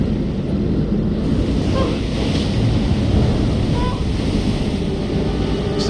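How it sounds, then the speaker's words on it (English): Stormy sea in a video game: a steady roar of wind and crashing waves fills the whole stretch, loud and continuous, with low rumbles that may be distant thunder and no talk over it. "It's a bad storm here."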